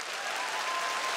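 A studio audience applauds team 30+ on a comedy league show, a brief, even burst of many hands clapping together, full and steady with no voices over it.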